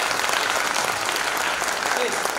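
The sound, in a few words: audience applause at a young writers' event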